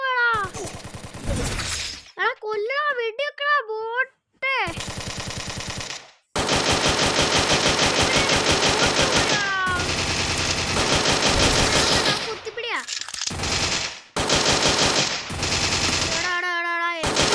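Dense automatic gunfire from the mobile shooter Free Fire in Clash Squad mode, loud rapid bursts that stop and start over several seconds, mixed with shrill tonal game sound effects.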